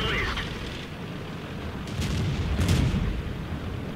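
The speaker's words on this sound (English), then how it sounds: "I try to put shots into him while on the move, but I fail to penetrate his armor." Tank cannon shots in World of Tanks, fired while moving without penetrating the enemy's armor: a couple of booming blasts over constant rumbling engine noise, heavy and fairly close.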